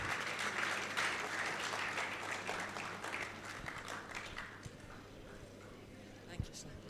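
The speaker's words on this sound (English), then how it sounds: "Can we give him a round of applause?" An audience applauding a speaker at an event, a soft, fairly distant spread of clapping that thins out and fades over several seconds, with a brief thump near the end.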